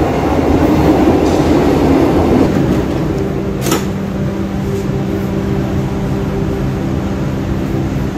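A Lisbon Metro train rumbles loudly and steadily as it pulls into a station, with a sustained low roar and a faint tonal whine as it slows.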